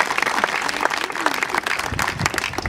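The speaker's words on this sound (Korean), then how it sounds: "이 대목에서 박수 치셔야 됩니다." Audience applause at the opening ceremony of a Yonex-sponsored amateur tennis tournament: a dense, loud wash of many hands clapping continuously, with faint crowd murmur and voices underneath.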